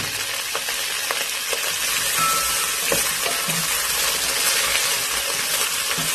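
Halved okra sautés with chicken in a pan, giving a loud, steady sizzle close up with scattered pops and light stirring clicks and no voices.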